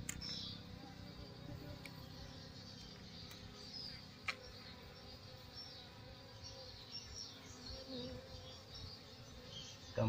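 Honey bees swarm around a nest built in a pile of rocks, a soft, steady insect drone with scattered higher buzzes and small clicks, faint and continuous with no talking.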